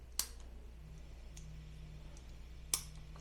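Switch on a fork-mounted LED light kit for a Ural motorcycle giving two crisp, faint clicks a few seconds apart over a steady low hum.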